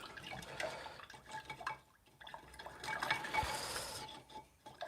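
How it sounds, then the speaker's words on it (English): A paint brush is swished and rinsed in a container of water, giving soft watery sloshing with light clinks against the container, faint and close, with no voices. "I'll just leave that there while I wash the brush"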